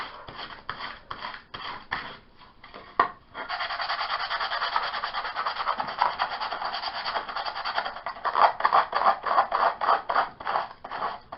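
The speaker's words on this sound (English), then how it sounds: "just start, this seemed a little thick, sanding it down" Steady rhythmic rasping of sandpaper rubbed back and forth over wood, with short strokes at first, then longer continuous scrubbing and quicker strokes near the end.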